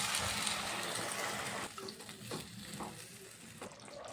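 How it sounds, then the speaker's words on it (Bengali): Water poured into a pan of fried cauliflower simmering in a sizzling spice masala, with a steady hiss of frying that drops and settles as the liquid goes in, followed by soft stirring sounds. "এবার দিয়ে দেব কিছুটা পরিমাণ জল।"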